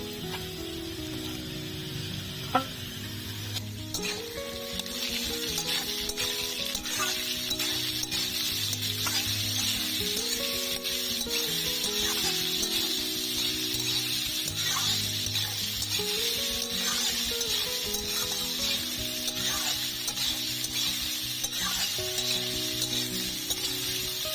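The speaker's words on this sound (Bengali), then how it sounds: "মোচাটা আমি ছাড়িয়ে ভালো করে ধুয়ে সেদ্ধ করে নিয়েছি, দিয়ে দিচ্ছি।" Boiled banana flower added to hot oil with fried chickpeas sizzles steadily in a pan, with repeated stirring scrapes and clinks running throughout; no talking.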